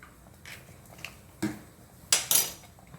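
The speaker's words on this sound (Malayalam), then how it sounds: "നല്ലോണം ഒന്ന് ഇളക്കി കൊടുക്കാം" A metal spoon stirs sambar, cooked without onion or potato, in a pot: a few soft scrapes, then two or three bright clinks against the vessel, close but quiet, in a hushed kitchen.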